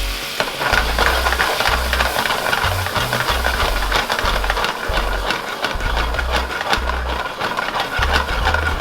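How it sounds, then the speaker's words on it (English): Butter being whisked into a pan of lemon-braised asparagus, a loud continuous sizzle and bubbling with rapid scraping and swishing from the whisk, close and steady with no talk. "Whisk in that butter."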